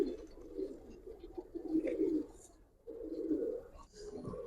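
Giribaz pigeons coo in low, rolling phrases at close range, two longer bursts broken by a short pause, with faint chirps and background noise around them.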